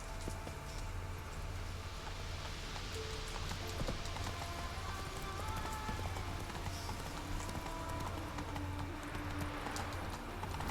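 Horse hooves clip-clop steadily in the video game The Witcher 3, mixed with a pattering rain-like hiss. The whole scene is faint and continuous, with no voices.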